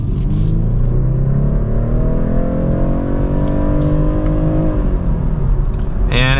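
A 2025 BMW 430i coupe with automatic transmission revs while driving, its engine note climbing steadily through the gear before a shift, loud and close from inside the cabin.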